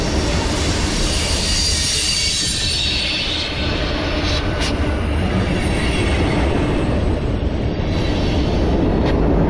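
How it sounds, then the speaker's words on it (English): A heavy Norfolk Southern ethanol train rumbles steadily past nearby, with loud low rolling noise and occasional high metallic wheel squeals above it. "That's two North and Southern ethanol trains back to back."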